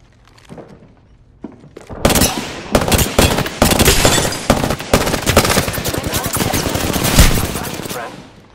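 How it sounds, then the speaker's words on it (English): Heavy automatic gunfire erupts in Apex Legends after a brief lull, loud and dense rapid bursts that run continuously to the end with sharp impacts mixed in. "They're shooting at me!"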